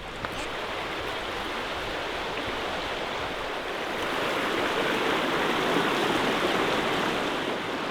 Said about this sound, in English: And right on the creek.